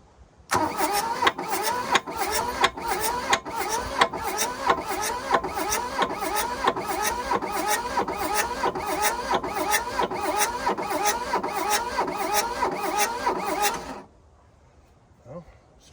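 The diesel engine of a 1982 Volkswagen Rabbit pickup cranks over with a rapid, even chugging, loud and close, for about thirteen seconds, then cuts off to near silence. The timing is off and it won't catch.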